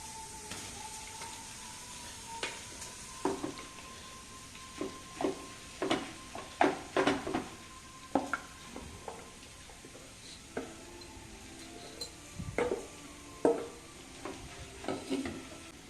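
Spices and mashed boiled chana dal fry in a pan for jhal pithe, with a steady sizzle and repeated scraping stirs of the spatula, close and moderately loud, no one talking.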